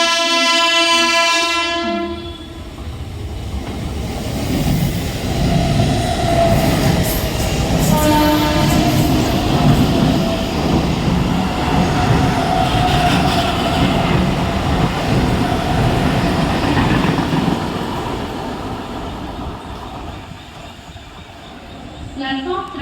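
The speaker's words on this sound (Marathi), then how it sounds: "local for Bandapur is arriving shortly on platform number 3" A Mumbai Central line local train pulls into a busy station platform, a loud horn blast opening over a long rolling rumble of wheels and carriages, with platform announcements and crowd voices layered underneath.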